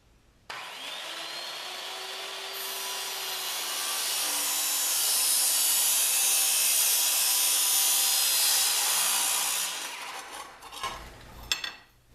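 A power saw cuts a metal spacer for a fifty-year-old mini bike, a loud, close, sustained grinding whine that swells through the cut for about nine seconds, then stops and leaves a few scattered clanks and rattles.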